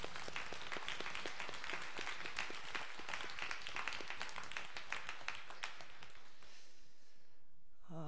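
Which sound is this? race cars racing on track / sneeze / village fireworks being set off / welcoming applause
welcoming applause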